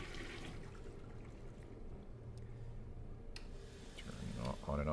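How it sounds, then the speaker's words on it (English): A toilet flushing in a video game, a low watery rush that swells toward the end, heard faintly alongside a steady background hum. "Can we flush the toilet?"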